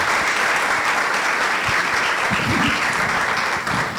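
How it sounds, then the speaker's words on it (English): An audience at a banking and finance panel event in Ghana breaks into sustained applause, a dense steady wash of clapping filling the room for the whole stretch. "I think they deserve a round of applause"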